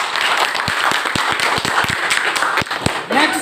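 Students in a school classroom clap together in a quick, uneven burst of sharp hand claps, loud and close, with a voice briefly audible near the end.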